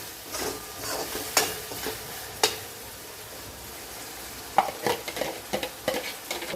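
Green turmeric curry, a Gujarati lili haldar shaak with crushed tomatoes, stirred and frying in a pan, a steady sizzle broken by sharp spoon scrapes and knocks, the clatter growing busier toward the end, no talk.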